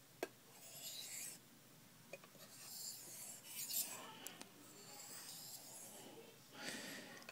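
Very light strokes of an old folding knife's micro bevel on a sharpening stone, a faint, close, soft rasping that repeats in gentle passes with a few small clicks.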